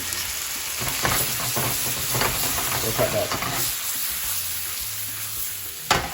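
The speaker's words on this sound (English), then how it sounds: "Hear that sizzling?" Steady, close sizzling of salt fish and vegetables frying in a pan for a Jamaican breakfast, with scraping stir sounds and a brief spoken remark.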